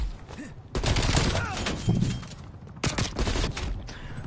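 Gunfire from the video game Call of Duty Cold War on PS5, loud bursts of shots and rapid fire in two main volleys with a brief lull between, game effects underneath.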